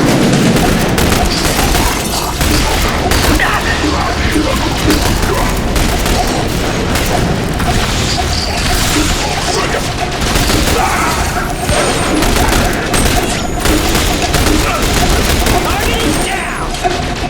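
Continuous heavy gunfire and explosive booms from combat in The Bureau XCOM Declassified video game, loud and dense throughout with shouted voices over the shooting.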